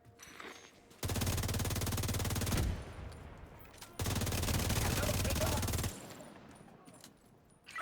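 Two long, loud bursts of automatic video game fire, each rattling for about two seconds, with quieter background sounds and a voice in the gaps between them.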